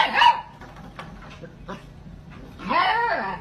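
A dog barks in a quick burst at the start, then after a lull lets out a longer, louder yelping bark run near the end, close to the microphone with faint background noise.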